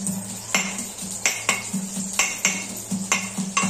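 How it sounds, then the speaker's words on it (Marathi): Garlic is crushed for a fresh pigeon-pea dal, with about a dozen sharp, close pounding knocks in a steady rhythm, each ringing briefly, and no voices. "तोपर्यंत हा लसूण आहे ना तो वाटून घेऊया।"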